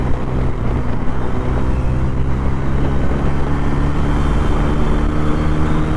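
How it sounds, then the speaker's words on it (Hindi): Exhaust note of a Bajaj Pulsar N160 160cc motorcycle held at high revs, a loud, continuous buzzing drone close to the microphone with no voices over it. "लेकिन क्या एग्जॉस्ट है, दारुण।"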